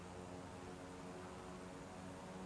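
Steady airplane engine drone from a plane taxiing slowly in Flight Simulator, a continuous even hum with a broad airy wash, alone without voices.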